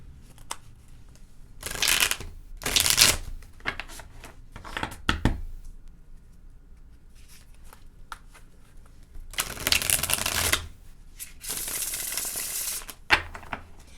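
Tarot cards are shuffled by hand in bursts: several close, crisp riffling and flapping rushes separated by short quiet gaps, with faint handling sounds between and no talk.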